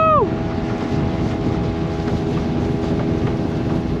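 Speedboat running at high speed off Goa, a constant loud engine drone mixed with wind and water rush, steady throughout with no clear voices.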